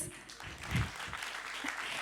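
Audience at a tourism forum in Burundi clapping together, a steady wash of applause in a hall that holds through the moment.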